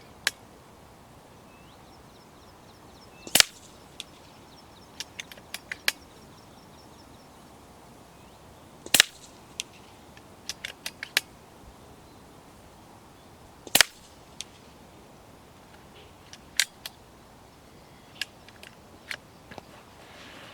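FX Crown air rifle firing H&N Slug HP .217 pellets of 21 and 23 grains, a handful of sharp cracks spaced several seconds apart, with fainter clicks and small handling noises between shots in a quiet outdoor setting.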